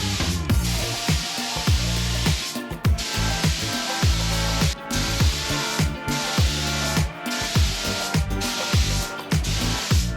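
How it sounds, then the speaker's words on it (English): A new paint spray gun sprays finish on a sailboat, a loud continuous hiss broken by short pauses every couple of seconds as the trigger is released and pulled again, close and without talk. "Thank you, new spray gun."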